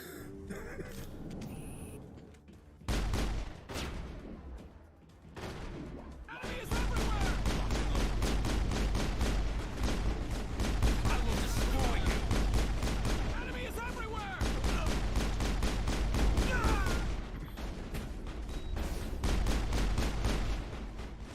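Pistol fire in a Mass Effect firefight, repeated sharp shots over a dense, loud bed of combat noise and rumble, with a few quieter pops at first.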